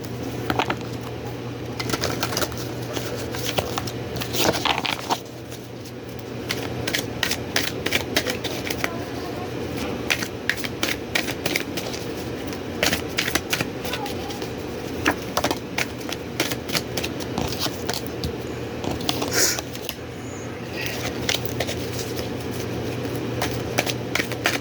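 Tarot cards shuffled by hand, a long run of quick riffling flutters and soft snaps that come in bursts and pauses, close and moderately loud, with a voice speaking in between.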